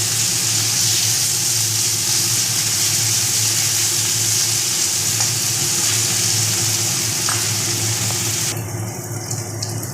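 Soaked, drained rice sizzling steadily as it fries in a pan for fish-head muri ghonto with potol, a constant close hiss with occasional stirring clicks, no voices.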